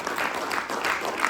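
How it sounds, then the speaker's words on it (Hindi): Theatre audience applauding a cast member during curtain-call introductions after a stage play in Jaipur, a steady patter of clapping with no break, moderately loud and fairly close. "जोरदार तालियां गौरव के लिए।"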